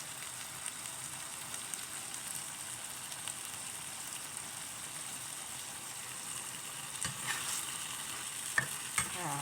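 Food stir-fries in a hot pan seasoned with fish sauce and sugar, a soft continuous sizzle with faint scraping stirs and a few clinks near the end.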